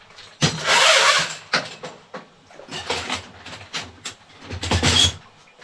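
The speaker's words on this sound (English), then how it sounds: "We're going to be using the auger 6 foot from Rigid" A Ridgid 6-foot toilet auger cranks through a plugged toilet, giving loud bursts of rattling, scraping mechanical churning that surge and pause in an uneven rhythm, close up with no talking.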